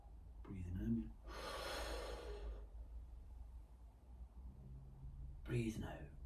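A long, breathy inhale during a qi gong breathing exercise, a soft airy rush lasting about two seconds between quieter breaths, with brief murmured voice before and after it.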